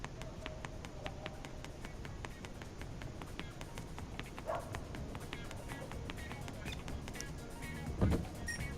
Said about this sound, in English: there will be no dog barking because that's actually coming from real life